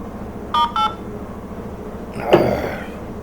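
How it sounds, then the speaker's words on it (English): Telephone call-transfer beeps on a crisis hotline: two short electronic beeps sound close together, followed after a pause by a brief click-like burst over a low steady hum. "During the silent transfer, you may hear beeps."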